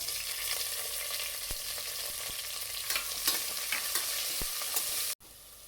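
Onions sizzle steadily in a hot pan while a utensil scrapes and stirs now and then, until the sound cuts off abruptly near the end.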